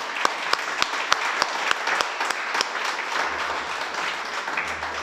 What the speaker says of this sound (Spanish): Vamos a dar un aplauso al Mashiach.